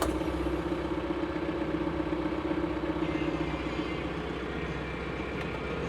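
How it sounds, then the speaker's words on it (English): A new TYM farm tractor's diesel engine idles steadily, a low continuous rumble with a constant hum and light clatter, close and unbroken, with no talk over it. "That diesel engine note is just beautiful."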